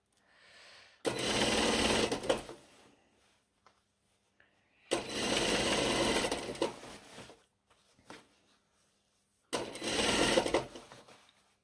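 A sewing machine stitches a trouser hem in three loud, steady bursts of about a second and a half to two and a half seconds each, separated by quiet pauses with faint handling noises.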